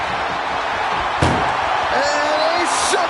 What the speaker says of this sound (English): they shut the door and have won this ambulance match